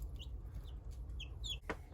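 Chickens cluck inside an axe shed, several short close chirpy calls scattered over a low background rumble, with one sharper cluck near the end.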